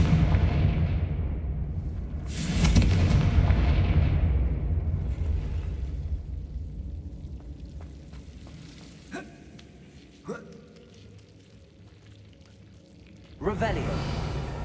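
In the video game Hogwarts Legacy, Confringo blasting spells go off as loud, booming bursts that fade slowly, one early and another near the end. Softer pops and brief voice sounds fall between them.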